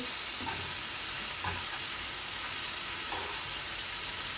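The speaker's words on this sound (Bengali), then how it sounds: "এক পিঠ হয়ে গেছে আমার মাছ ভাজি।" Boal fish fries in a little oil in a nonstick pan, a steady close crackling sizzle with occasional soft stirring or shifting noises.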